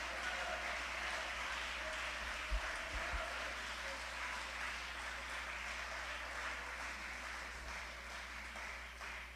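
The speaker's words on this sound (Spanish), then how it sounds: "Un aplauso para él" A church congregation applauding after a Spanish-language sermon, a steady wash of many hands clapping at moderate distance with a low constant hum underneath.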